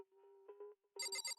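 A telephone rings in a game scene, first with a steady tone and short pulses, then with a louder, brighter burst of rapid ringing bells near the end.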